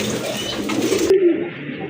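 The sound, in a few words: pair of big white Indian Bombay pigeons cooing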